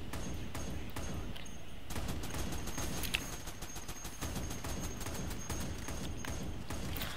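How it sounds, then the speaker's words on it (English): Gunfire from the top-down shooter Neon Chrome during a turret fight: rapid, fairly even bursts of sharp, clicky shots that repeat steadily over a low background rumble, at moderate loudness. "he's shooting the turret"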